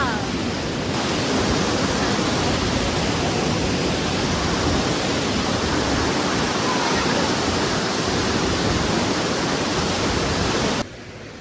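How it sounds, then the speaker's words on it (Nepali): Mohini waterfall in Kulekhani, Nepal, roaring as a dense, loud, unbroken rush of falling water close by, the steady wash cutting off abruptly near the end. "मोहिनी झरना आइपुग्यो। देख्न सक्नुहुन्छ मोहिनी झरना।"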